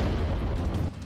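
An FH-70 howitzer fires, giving a heavy, deep roaring blast that rumbles loudly for about a second before dropping off, with no voices.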